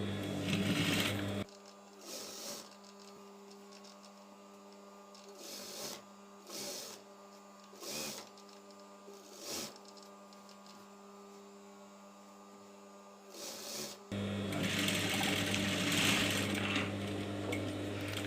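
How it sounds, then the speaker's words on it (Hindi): Sewing machine stitching a long kurti, a steady mechanical whir running in bursts between pauses, loudest at the start and end with a rhythmic hum throughout and no speech. "अब यहाँ से हमें इसकी सिलाई शुरू कर देनी है।"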